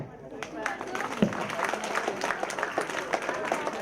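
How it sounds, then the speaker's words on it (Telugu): An audience at a Sankranthi festival closing ceremony claps for a performer, with scattered sharp hand claps over a busy crowd murmur and some voices, at moderate distance. "గట్టిగా కొట్టాలి ఆదిత్యరామ్కి క్లాప్స్."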